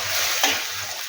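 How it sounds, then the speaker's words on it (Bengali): Chicken stock poured into a hot pan for chicken soup, a short burst of hissing sizzle over a steady background fry. "চিকেনের এই জলটা দিয়ে দিচ্ছি"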